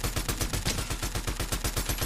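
Rapid automatic gunfire in the video game Fortnite, a fast, loud burst of repeated shots in an even rhythm lasting about two seconds.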